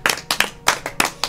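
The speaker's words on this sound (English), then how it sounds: "And then one big round of applause for Ian" A small group claps for Ian in several short bursts, close and crisp, with uneven rhythm and brief pauses between rounds.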